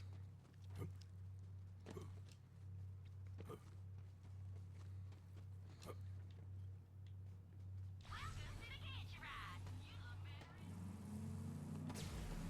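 A car engine in the video game Borderlands 3 holds a low, steady hum, with periodic soft thumps, then the sound shifts to a louder, rougher rumble for the last few seconds.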